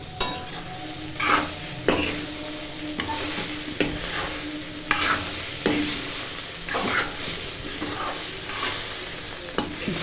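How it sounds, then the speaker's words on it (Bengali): Cabbage cooking in a pan at home, with steady sizzling broken by repeated scraping stirs of a spoon against the pan, close and fairly loud, no talking. "এদিকে রান্না হচ্ছে বাঁধাকপি।"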